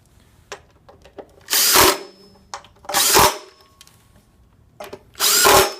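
A power screwdriver drives assembly screws home in three separate short, loud whirring bursts, each about half a second long, with quiet handling noises between them.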